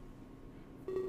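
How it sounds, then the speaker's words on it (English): Phone message tone in the video game Major/Minor, a short electronic beep that starts near the end after a faint hum and rings clearly in an otherwise quiet space. "The tone on my phone echoes through the empty hall."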